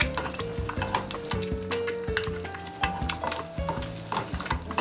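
Quail eggs frying in a hot oil bath in a wok, a steady close sizzle and crackle with occasional clinks of utensils against the pan, no talk.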